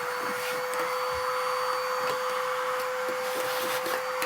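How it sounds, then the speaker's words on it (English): Shop vacuum cleaner sucking up metal shavings from inside and around a cut bike steerer tube, a steady close whine with a sharp constant tone and faint ticking debris, running alone throughout. "We're going to vacuum up all the shavings on the inside of the tube and all the way around so we don't make a big mess."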